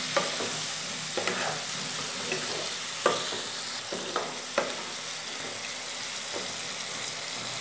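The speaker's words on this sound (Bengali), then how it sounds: "জল দিয়ে এবার মশলাটাকে ভালো করে ভাজা ভাজা করে নেব" Spice paste frying in a pan with a little added water for a light fish curry, a continuous close sizzle broken by repeated scraping and tapping of a stirring spoon.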